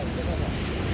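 Stormy sea waves crash and roar continuously at Sandspit Beach, Karachi, a dense broadband surf wash heavily mixed with wind buffeting the microphone, with no pauses over the brief moment.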